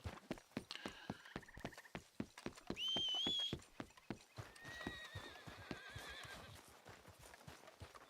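Horse in the video game Red Dead Redemption 2 clopping along with steady hoofbeats while letting out several shrill neighs and whinnies, the hooves continuing throughout, fairly quiet overall.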